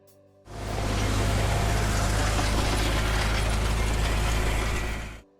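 A Ford 8N tractor engine starts abruptly and runs loud and close with a steady, dense mechanical clatter and low rumble, then cuts off sharply.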